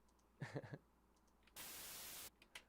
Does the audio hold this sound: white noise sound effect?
yes